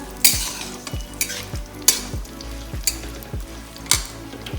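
Raisins are stirred in a hot pan for sweet rice, a spoon scraping in regular strokes about once a second over a soft sizzle, close and clear with no speech.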